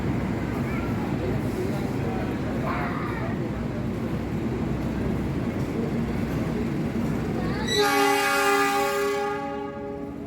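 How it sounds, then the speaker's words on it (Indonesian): A train horn sounds a long, steady blast as the Gumarang train departs Semarang Tawang station in Indonesia, over rumbling engine and station noise, with talk earlier in the background. "kereta api Gumarang yang baru saja dibunyikan semboyan 35 diberangkatkan dari stasiun Semarang Tawang"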